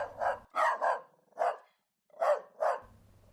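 A dog in a children's tale lets out a run of short, close barks and yelps in uneven bursts, each separated by brief pauses, over a faint low hum.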